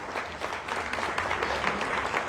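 Brief audience applause at a Spanish-language talk honoring a family, a soft, fairly distant patter of many hands clapping that holds evenly without speech over it.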